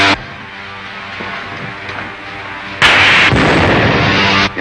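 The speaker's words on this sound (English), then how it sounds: "Fire a blast into the tail surface as I level out." A spaceship's blaster fires at an enemy ship's tail, a harsh sustained roar of noise bursting in loudly after a quieter rumbling stretch and cutting off abruptly.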